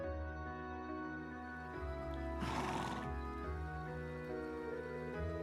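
A horse neighs loudly in a long whinny while hooves clip-clop on a mountain path in Trails of Cold Steel II, set over steady game music with no speech.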